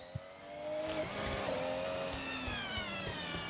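A cat meow alert cuts in on a racing sim stream, a loud rising-and-falling yowl rising over an engine whir from Forza Horizon 6, then fading under the car noise.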